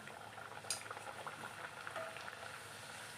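Poori dropped into hot oil gives a steady, moderately loud bubbling sizzle that holds evenly throughout, with a brief sharper crackle near the start.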